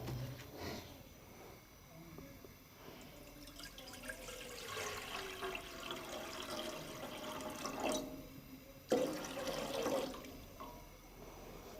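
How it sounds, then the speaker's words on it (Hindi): Water pours into a cooking pot set on a lit stove, a steady, soft splashing and trickling that runs for several seconds, fairly quiet and close, with a brief louder splash near the end. "तो सबसे पहले हम चूल्हा ऑन करते हैं और इसमें पानी डालते हैं।"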